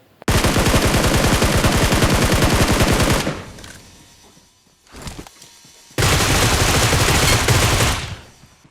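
Automatic gunfire in the mobile battle royale game BGMI: a loud, rapid burst lasting about three seconds, a short pause with a faint shot, then a second sustained rapid burst, all close and dense.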